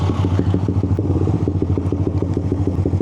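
A Yamaha Aerox motor scooter engine idles close by, a steady low putter with rapid rhythmic pulses, loud and without speech.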